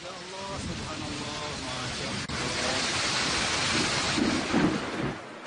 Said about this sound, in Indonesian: akibat hujan yang disertai badai